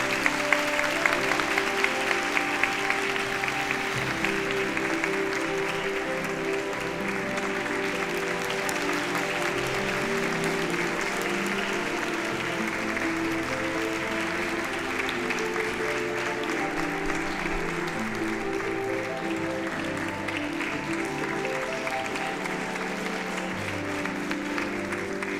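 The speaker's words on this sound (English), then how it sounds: "Could we have a round of applause for our panelists," An audience at a peace foundation forum applauds the panelists, a full, sustained round of clapping that starts with a few sharper claps and then rolls on evenly for a long stretch, with faint voices in the background.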